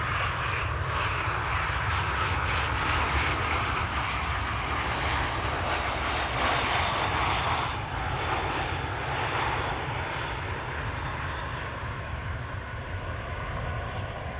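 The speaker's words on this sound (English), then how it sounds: "CRJ 1000 landing here" A CRJ 1000 regional airliner of Air Nostrum, flying for Iberia Regional, lands on Schiphol's Polderbaan runway on a misty morning, its engines a loud steady roar that holds nearly unchanged throughout, with no voices.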